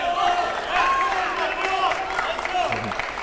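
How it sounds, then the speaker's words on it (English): Crowd of spectators cheering and shouting at a college table tennis team quarterfinal, a loud steady roar with voices rising and falling throughout. "I think the cheering is going to be increased quite shortly."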